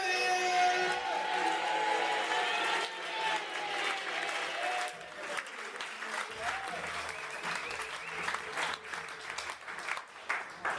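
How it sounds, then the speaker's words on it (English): An audience claps to welcome a comedian onto a stage, with loud applause at first that thins into scattered clapping as a voice speaks over it. "Please, put your hands together, start the clap"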